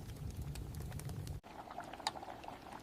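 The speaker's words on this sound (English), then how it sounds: "I am stirring the jam very slowly." Farm jam simmers in a pot while being slowly stirred, with soft, low bubbling and faint patter close by. Quiet overall, with a brief break partway through and one small splashy pop near the end.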